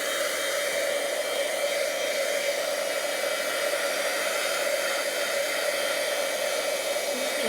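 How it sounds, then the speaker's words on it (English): A heat tool blows steadily to dry wet paper for a handmade card, giving a constant close-up whirring hiss that holds even from start to finish with no talking. "I'm actually going to use my heat tool just to heat this one dry."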